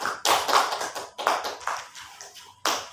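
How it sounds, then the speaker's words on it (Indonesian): A classroom of students gives a short round of applause for a classmate after a presentation, coming in three separate quick bursts of clapping, close and fairly loud, with no talking. "Beri aplaus dulu untuk temannya"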